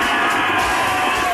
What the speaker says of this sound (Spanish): Otro aplauso muy fuerte para Fanny.